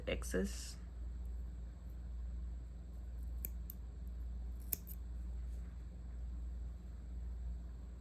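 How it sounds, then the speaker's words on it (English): Scissors snip off excess yarn from a crocheted granny square purse: a quick close cutting snap near the start, then a couple of small faint clicks over a low steady background hum, with no talking. "And then you're gonna snip off the excess."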